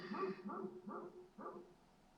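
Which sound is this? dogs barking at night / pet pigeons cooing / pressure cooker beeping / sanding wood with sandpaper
dogs barking at night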